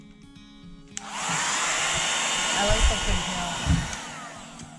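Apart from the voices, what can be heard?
hair dryer heating glue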